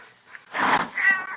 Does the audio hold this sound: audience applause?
no